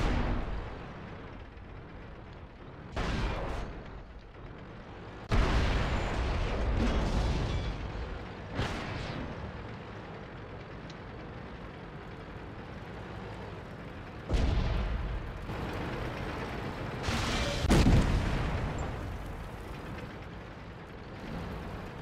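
Artillery fire in the World of Tanks video game, several heavy booming blasts spaced seconds apart, each with a rumbling tail over a low background rumble, loud and near, with no talking.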